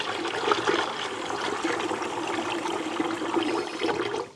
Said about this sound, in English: first of all I'm going to do is wash this rice